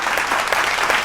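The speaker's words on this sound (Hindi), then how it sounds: "तो जोरदार तालियां जो है बजती रहनी चाहिए" Applause from an audience at a Hindi poetry gathering, cheering poets who have just recited; a steady wash of clapping fills the whole moment without a break.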